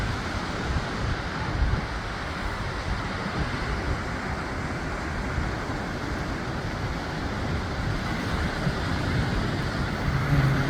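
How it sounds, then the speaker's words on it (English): Steady ocean surf rolling in along the rugged Big Sur coastline below roadside cliffs, a continuous broad wash of breaking waves mixed with wind rumble against the microphone, with no talking. "You can get down and actually see the waves coming in."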